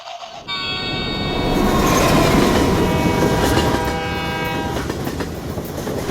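A slow train rolls along the tracks in Daliang Mountain near the small town of Pusheng, with a loud, steady rumble and clatter that swells and holds for several seconds, sustained tonal squeal or horn lines above it.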